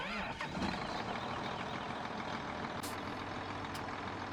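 A John Deere 7810 tractor engine from Farming Simulator 17 runs with a steady, dense diesel drone at a constant load, alone with no talk, with two short high hissing bursts near the end.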